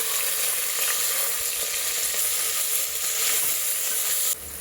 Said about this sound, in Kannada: ಈರುಳ್ಳಿ, ಸೊಪ್ಪು, ಕೊತ್ತಂಬರಿ, ಪುದೀನ ಸೊಪ್ಪು ಎಲ್ಲ ಒಂದು 2 ನಿಮಿಷ ಚೆನ್ನಾಗಿ ಫ್ರೈ ಆಗಬೇಕು.